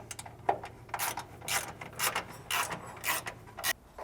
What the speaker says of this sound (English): tighten up the rest of these button heads using your 3/16 Allen